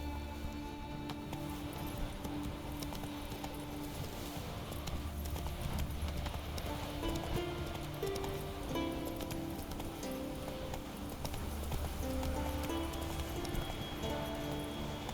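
A horse gallops in The Witcher 3 video game, its hooves making a continuous rapid clip-clop under game music and ambience, steady and mid-distance throughout.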